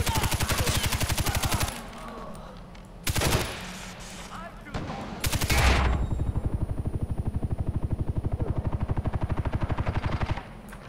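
Rapid submachine gun bursts from the video game Far Cry 4 rattle loudly, several long strings of shots broken by short pauses, with a low rumble in between.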